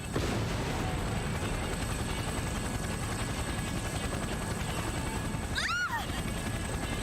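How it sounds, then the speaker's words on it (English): Helicopter under sudden attack and swaying in Persona 4 Arena Ultimax: a steady rotor drone runs throughout, broken near the end by a sharp burst of impact and a swooping metallic whine. "The helicopter is suddenly attacked from an unexpected direction and the vehicle sways alarmingly"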